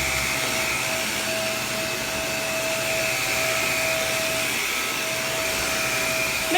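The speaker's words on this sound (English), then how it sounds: "Makes a little bit of noise when you turn the brush on because this vacuum actually has two motors." Shark Navigator vacuum cleaner running with its brush roll motor switched on, a loud steady whine and whir with a constant tonal hum, close and continuous throughout.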